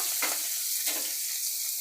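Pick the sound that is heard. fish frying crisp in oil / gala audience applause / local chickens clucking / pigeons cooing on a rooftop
fish frying crisp in oil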